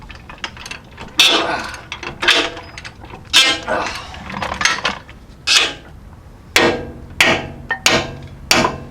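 Tool loosening the lower strut bolt on a Toyota 4Runner, fourth generation, during a leveling and lift install: a loud series of sharp metallic rattling bursts and clanks, close and irregular, several in quick succession.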